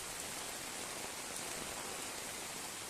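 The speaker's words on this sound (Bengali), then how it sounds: "এই যে দেখুন বৃষ্টিটা অনেক সুন্দর জোরে জোরে টিপ টিপ করে হচ্ছে" Steady rain falls on a house rooftop where water has pooled, a dense, even hiss of many drops throughout with no voices.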